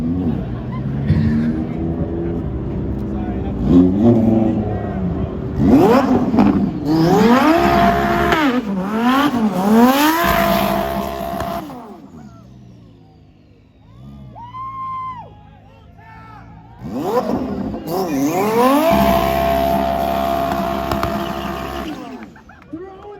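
Lamborghini engine revving hard in bursts while the car spins donuts and a reverse burnout, rising and falling loud and close, with a crowd cheering and voices over it.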